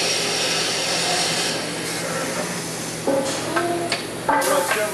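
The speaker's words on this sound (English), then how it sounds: "Get some ideas of how quickly this machine operates." A Triad stair hand rail boring machine runs with a steady loud motor whine and hiss, then short bursts of cutting and clunking toward the end as it works through rails in a stair shop.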